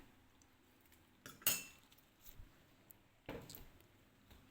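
A spoon clinks and scrapes against a bowl while stirring a pork marinade made with fresh milk, eggs and a sweetener, in a few quiet, scattered strokes with soft squishy sounds between them.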